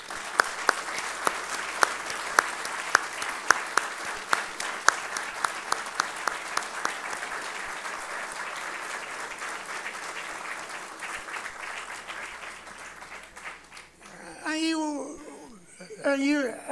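Sustained audience applause at a judicial inauguration ceremony, loud and steady with sharp individual claps at first, thinning out before a voice starts speaking near the end.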